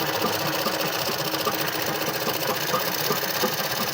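A sewing machine runs steadily while stitching jacket fabric for an Anarkali suit, giving a fast, even mechanical chatter that stays close and continuous throughout.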